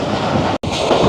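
Shah Latif Express train running through the Thar Desert toward Mirpurkhas, a loud, steady rolling rumble and rattle with one abrupt momentary break midway.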